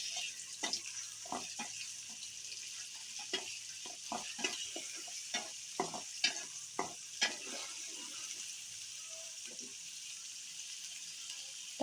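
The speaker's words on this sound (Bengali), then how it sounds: "তারপরে আমি রসুন বাটা দিয়ে দিলাম। এগুলারে নেড়ে চেড়ে মিশিয়ে নেব।" Garlic paste being stirred in a frying pan while cooking pabda fish, with a steady low sizzle under repeated scraping and knocking strokes of a spoon against the pan, close and moderately loud, no talking.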